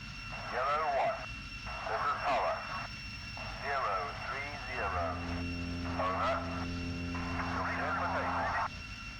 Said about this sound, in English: On the power now, we'll begin our takeoff roll.